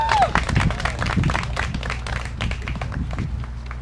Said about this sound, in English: How about another round of applause for Chief Bayshore for all he's done?